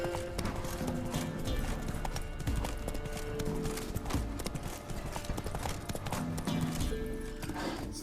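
Horse hooves clip-clopping on a road near the stables in The Witcher 3 video game, a continuous fast, busy patter of hoofbeats over game ambience, moderately loud with no talk.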